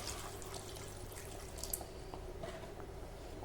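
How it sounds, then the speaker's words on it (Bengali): Water runs and splashes into a cooking pot holding diced papaya for Bengali shukto, a faint, steady pour with small drips, no one speaking. "জল দেবো"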